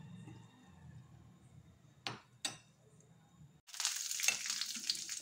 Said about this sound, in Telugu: కొంచెం రెడ్గా అయ్యేంత వరకు వేపాలి శనగపప్పు,